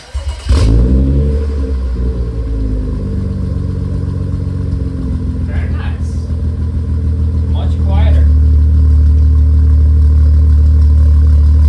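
A BMW F30 335i with a straight-pipe axleback exhaust starts up and settles into a loud, deep idle with a blip of revs, heard close throughout, with a person speaking briefly over it.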